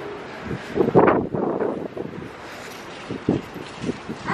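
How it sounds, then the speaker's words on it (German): Gusty wind buffets outdoors in irregular bursts, rising and falling, with no one speaking. "Jetzt wird es ganz schön windig."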